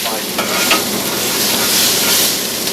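Scallions char on a hot home-style grill at The Whelk, giving a steady, close, loud sizzle with a dense hiss that runs unbroken throughout.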